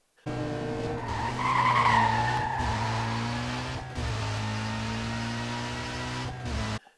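In the Need for Speed video game, a BMW M3 GTR launches from a standstill with a loud, sustained tire squeal over a droning engine that keeps rising through gear changes for several seconds.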